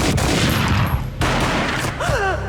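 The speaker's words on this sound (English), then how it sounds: "A gunshot boomed and she fell down in slow motion." A gunshot in the Max Payne game, a loud close boom with a sharp attack, followed by a brief ringing tone and a short whooshing swirl.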